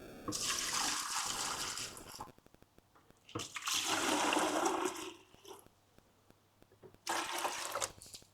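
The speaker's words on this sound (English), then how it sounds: "I'm gonna pour some into each bucket here" Water pours into a bucket for a DIY mosquito trap in three separate bursts, each a splashing gush of a couple of seconds, separated by quiet pauses.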